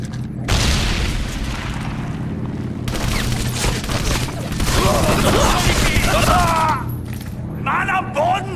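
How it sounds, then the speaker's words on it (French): Grenade blast and battle noise in the Wii game Medal of Honor: Avant Garde, a loud broadband boom near the start with more explosive bursts and gunfire over a steady low rumble, voices calling out throughout. "Il y a une grenade!"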